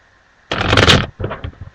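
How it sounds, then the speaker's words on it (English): A deck of playing cards is shuffled close up: a dense riffle burst of about three-quarters of a second, a brief pause, then a softer, rougher second burst of cards settling together. "go ahead and shuffle up the deck."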